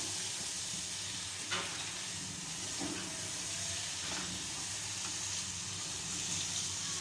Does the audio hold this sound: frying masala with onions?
yes